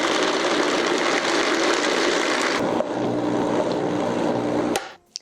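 A Vitamix blender churns peanut butter cookie mixture with a loud, steady motor roar that shifts pitch partway through, then cuts off abruptly just before the end.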